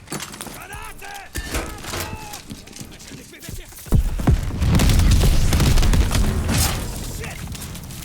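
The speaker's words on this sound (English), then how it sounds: "get a grenade in there! Grenade out!" A grenade blast in the Call of Duty: Vanguard cinematics lands mid-battle, a heavy boom at about four seconds that rolls into sustained crashing debris and gunfire, with shouted voices in the scene.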